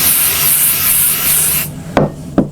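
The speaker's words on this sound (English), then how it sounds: "So I'm just spraying" A steady hiss of spray adhesive from an aerosol can onto fabric runs for over a second, then stops, followed by two sharp taps close by.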